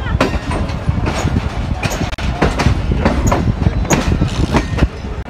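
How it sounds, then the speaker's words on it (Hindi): Millat Express 18 Down rolls in toward platform 1, a loud, close, steady rumble of wheels with repeated clickety-clack rail-joint beats and occasional metallic squeals over several seconds. "हमारी 18 डाउन जा रही है प्लेटफॉर्म नंबर 1 की तरफ"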